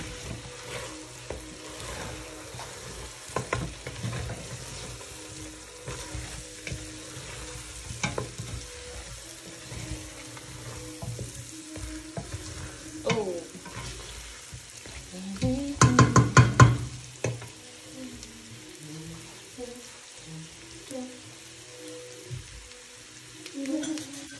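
Garam masala being stirred into Swahili pilau frying in a pot, a soft continuous sizzle with scraping and clinking of the spoon, a louder burst of stirring near the end, close and without talking.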